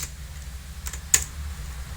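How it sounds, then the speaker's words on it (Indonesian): Keystrokes on a computer keyboard while entering Pascal code, a few soft scattered taps with one sharper click, quiet and close with no talking. "ketik ya, begini"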